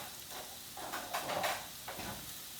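Spam stir fry in teriyaki sauce sizzling in a pan, a soft, quiet frying hiss with a few brief scrapes and clacks as the food is turned.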